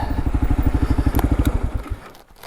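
A Gen 3 Kawasaki KLR motorcycle engine runs close by with a loud, steady thumping rhythm as the throttle is snapped. It then drops off and fades near the end, with a few light rattles.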